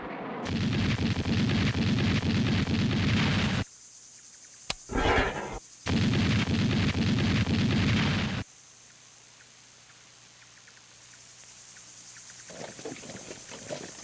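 A 57mm anti-aircraft gun firing during the Vietnam War, a loud, sustained roar of rapid shots that breaks off, flares again briefly, then resumes before dropping to a low background rumble.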